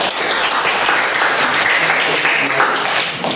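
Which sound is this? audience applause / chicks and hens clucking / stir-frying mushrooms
audience applause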